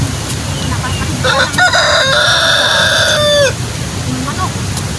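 A rooster crows loudly and close by, one long drawn-out call, with chickens clucking around it and soft background noise.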